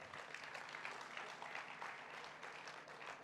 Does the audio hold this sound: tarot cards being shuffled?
no